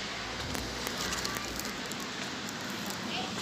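Dense, steady patter of rain falling, with soft crackly drops throughout and no pause.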